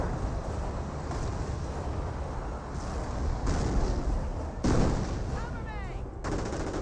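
Continuous heavy artillery and gunfire from a Company of Heroes battle, a dense rumbling barrage with repeated booming impacts, one louder blast near the end.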